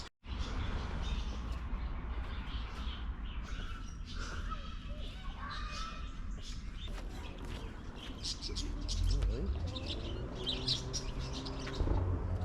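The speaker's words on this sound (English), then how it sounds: "just hear the birds whistling their tunes" Many birds chirp and whistle their songs around memorial benches at Inveresk near Musselburgh, bright overlapping calls running throughout over a steady outdoor background, with people talking at times.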